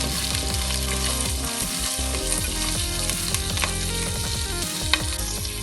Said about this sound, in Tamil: கடலைப்பருப்பு நல்லா செவந்துடுச்சு. இப்போ கொஞ்சமாக கருவேப்பிலை போட்டுக்கலாம்.